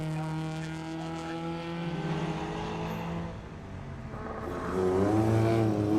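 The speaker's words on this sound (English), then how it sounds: "as Sir Andrew McAlpine and Andrew Merrifield in their classic Mini, hustling it around the Cheshire countryside" A classic Mini rally car driven hard on a stage at Oulton Park in the Cheshire countryside, its engine revving and rising in pitch as it accelerates, with tire squeal, heard at moderate distance and with no talk.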